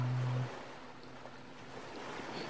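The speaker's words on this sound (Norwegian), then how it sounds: "Er det en haien? Nei, bare bølger." Ocean waves in the survival video game Stranded Deep wash softly and steadily, a faint low surf roar after a brief tonal hum at the start.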